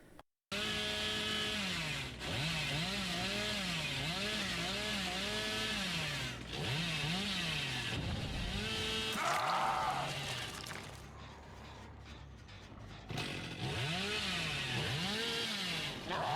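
Hillbilly's chainsaw from Dead by Daylight, running loud and close for most of the stretch with repeated revving swells, a brief drop in the middle before it roars back, no voices.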